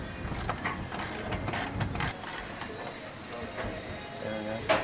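A T10 Torx screwdriver backs out screws on a Jeep turn signal light, giving faint ratcheting clicks and small mechanical ticks at close range, with a person talking over them.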